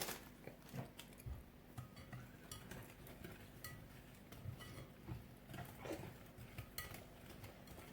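Spoon stirring sifted milk, cocoa and vanilla into brownie batter in a bowl, soft scraping with frequent light clinks of utensil against the dish, close and quiet, without speech.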